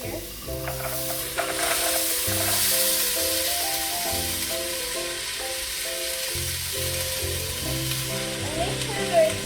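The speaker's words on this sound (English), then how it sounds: "now I'm gonna dump all of these ingredients into here." Chicken noodle soup ingredients dumped into a hot pot, hissing and sizzling steadily at moderate volume under a musical background, with faint stirring.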